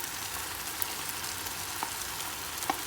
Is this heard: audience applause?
no